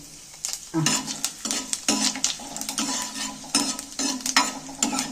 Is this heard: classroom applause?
no